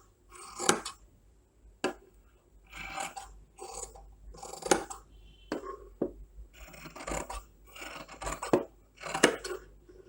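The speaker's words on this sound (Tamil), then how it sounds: "இதை வந்து இப்போ கட் பண்ணிக்கிடுவோம்." Scissors snip through fabric for a double-layer cloth face mask, about a dozen crisp close-up cuts in an uneven rhythm with quiet pauses between.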